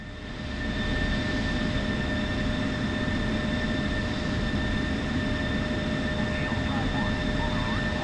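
An F-16C fighter's jet engine roars as a steady, loud broadband drone with sustained high whine tones, rising in over the first second and holding constant in a multiplayer air-to-air and air-to-ground flight game.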